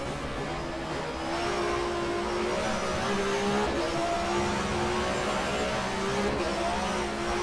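Race car engine in the GTR2 German Touring Car Cup game at Zandvoort, 1994 season, droning loud and steady throughout as it drops down to second gear, with pitch sweeps and faint tyre noise.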